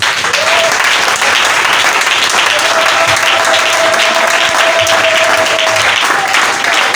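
A church congregation applauds and cheers loudly and continuously, a dense sustained ovation from a large crowd, with a held musical tone underneath.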